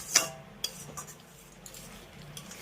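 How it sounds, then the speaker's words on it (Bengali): A spoon stirs spice mix into tomato puree in a pan over a high flame. One sharp metallic clink is followed by a few lighter scattered taps against the pan, and no one speaks. "এবার হাই ফ্লেমে এই মশলাটাকে আমি টমেটো পিউরির সঙ্গে একবার ভালো করে মিশিয়ে দুই থেকে তিন মিনিটের মতো ফুটিয়ে নেব"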